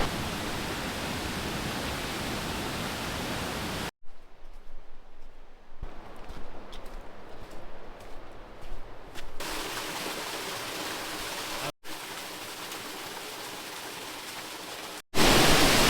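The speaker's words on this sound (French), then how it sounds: "C'est la première cascade du jour et pas des moindres." A waterfall in Ecuador roars in a steady, broadband rush, broken by a few abrupt cuts and a quieter stretch in the middle.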